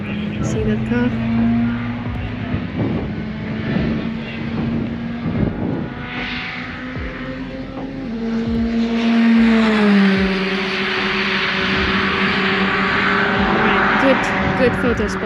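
Suzuki Swift Cup race cars pass a trackside spot during a training session in Slovakia, engines droning and rising in pitch as they go by, with a spectator talking over the noise.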